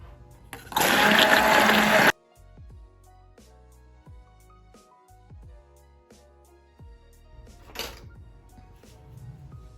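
Hibiscus and matcha deep-conditioning hair mask whirred in a blender for about a second and a half, a loud burst that stops abruptly, followed by quiet clinks and handling sounds.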